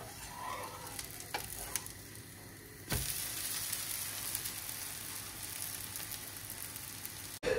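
Dosa frying in ghee on a pan, a steady crackling sizzle that jumps louder midway and stays even, with a few soft clicks early on.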